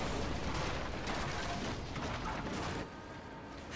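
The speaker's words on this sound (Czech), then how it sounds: "ještě na nás střílí katapultem" Catapult fire in the video game Rise of the Tomb Raider during a battle at a closed gate, a loud, dense rumbling barrage of impacts that drops off abruptly near the end.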